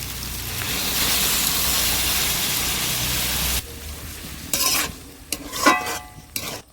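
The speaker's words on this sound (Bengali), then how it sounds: "সামান্য জল দিয়ে দেবো এবার" Bamboo shoots with prawns sizzle loudly and steadily in hot oil in a pan, then the hiss drops away sharply when a little water is added, followed by scattered stirring clatter and bursts of bubbling.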